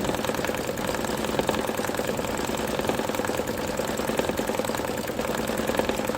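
An embroidery machine sews a patch, its needle chattering in a fast, even mechanical rhythm that runs steadily and close throughout, with no voices.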